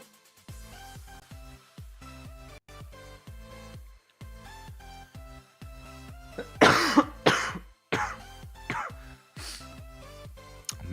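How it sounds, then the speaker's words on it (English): A single person coughs several times in a cluster, loud and close, with some throat clearing, over a steady background of rhythmic music during a live futures trading stream. "Mean cough, mean cough."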